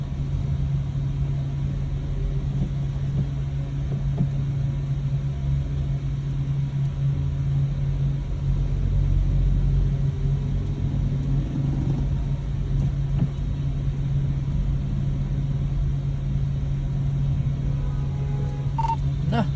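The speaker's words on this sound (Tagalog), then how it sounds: "Traffic pa rin dito." Steady low rumble of road traffic heard from inside a vehicle stuck in slow-moving traffic in Indomingo, a continuous drone with a constant hum and no speech.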